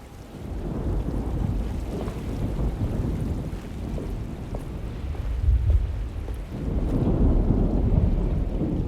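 Stormy night ambience in the video game Alone in the Dark (2024), with a deep rumble of thunder rolling under steady rain and wind, swelling louder near the end.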